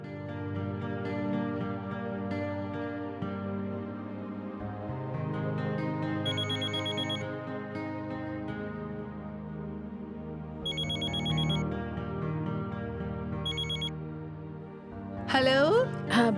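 A phone rings on an outgoing call in a Bhojpuri TV drama. Three short bursts of electronic ringback tone sound over soft background music, with a brief rising swish at the end.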